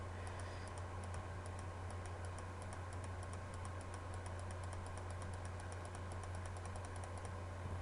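A computer mouse clicks in a quick irregular series of light, faint ticks over a steady low electrical hum, with no one talking.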